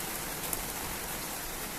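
Heavy rain lashes down outside in Ireland after weeks of dry weather, a dense, constant broadband hiss with no breaks, steady and enveloping and heard alone without voices.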